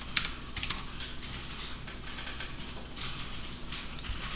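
Typing on a computer keyboard while entering a command in the vim editor on Linux, with steady clusters of close key clicks over a low background hum and no talk.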